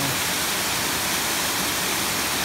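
A small waterfall about two metres high on a mountain stream pours with a steady, dense rushing roar, close and loud, with no talk.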